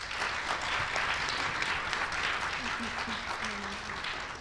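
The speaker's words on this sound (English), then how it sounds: "Let's give our teams another big round of applause" A live audience at a school quiz show applauds the competing middle school teams, giving a sustained, steady round of clapping that fills the room throughout.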